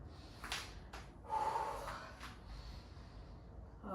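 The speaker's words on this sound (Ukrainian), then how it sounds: "Ну, по-перше, ми зробимо дихання." A slow breathing exercise opens a neck-relief workout for pregnancy: a few soft, close nasal inhales and a longer drawn breath, quiet against faint room hiss.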